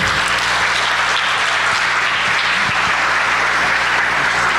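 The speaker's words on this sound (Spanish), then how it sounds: "Démosle un fuerte aplauso." Auditorium audience applause welcoming a speaker at a university conference on Industry 4.0 in Celaya, a steady wash of many hands, dense and continuous with no talk.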